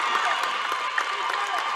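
A basketball crowd in a gym cheers steadily after a rebound, a broad sustained roar with scattered shouts throughout.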